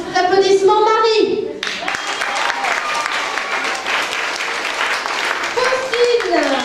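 An audience at a school show bursts into loud, sustained applause and clapping, with a voice speaking over the start and again faintly near the end.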